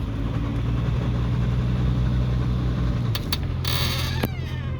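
A 1981 Ford Capri rolls forward with a steady mid-pitched engine hum, then the engine note shifts and a few sharp creaks and clunks break in near the end, close by.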